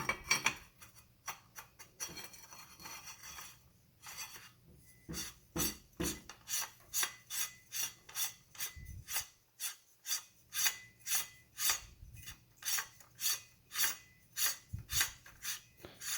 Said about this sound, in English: That just screws onto the barrel nut, like so.